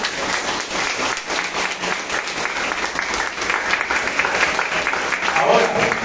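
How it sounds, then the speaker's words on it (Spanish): A church congregation applauds in praise, a steady dense wash of clapping that holds at even loudness throughout with faint voices beneath. "Dale un aplauso al Señor por eso."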